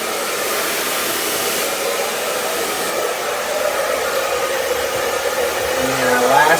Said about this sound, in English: blow drying that root lifter in there, and let it flatten out.